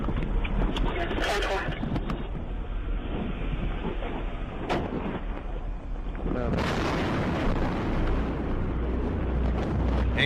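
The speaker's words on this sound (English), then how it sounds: "Something blew up." An explosion and the resulting fire, caught by a police dashcam, come through as a continuous heavy rumble with sharp bursts and crackles, with voices talking over it.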